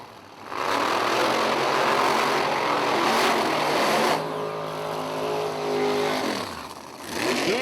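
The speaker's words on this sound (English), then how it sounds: "you got a blower Outlaw 10-5 coming at you, baby, here in the left lane" A supercharged Outlaw 10.5 drag race car launching down a drag strip, a thunderous roaring blast that holds loud for several seconds, then eases and fades as another engine note sweeps down in pitch.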